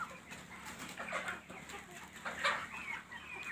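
Desi hens on a poultry farm in Hisar, Haryana cluck softly and repeatedly at close-to-moderate range, with overlapping calls over a quiet background and no talking.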